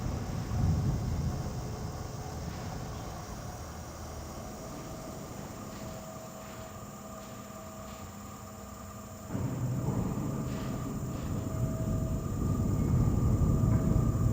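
A tram in World of Warcraft's Turtle WoW rumbles with a steady low mechanical hum and airy rushing noise, swelling louder partway through as it moves along, with no talk over it.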